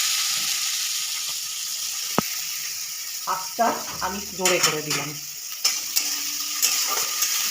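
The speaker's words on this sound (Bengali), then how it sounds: "আমার তেলটা আগের থেকে গরম হয়ে গেছে। আমি 2টো তেজপাতা আর একটা কুচানো পেঁয়াজ আমি দিয়ে দিলাম।" Two bay leaves and a chopped onion hit hot oil for a restaurant-style chicken curry, giving a bright sizzle with a sharp clack, then clattering stirs and pan scrapes while someone speaks briefly over the frying.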